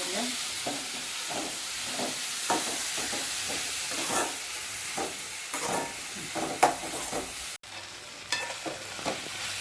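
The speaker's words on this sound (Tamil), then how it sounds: "வதங்கட்டுங்க தக்காளி நல்லா" Chopped tomatoes sizzle steadily in a pan for a gram flour kurma, with repeated scraping stirs of a spoon breaking in at a loose rhythm; close and fairly loud, with no talking.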